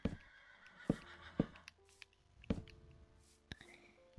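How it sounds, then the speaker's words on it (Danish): Minecraft chickens on a big in-game chicken farm, several short sharp clucks and squawks at irregular intervals, moderately close, with a faint tonal background. "det er nok en stor hønsefarm"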